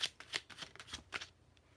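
A deck of tarot cards is shuffled by hand close up, giving a quick run of crisp riffling bursts that tapers off near the end, with no talking.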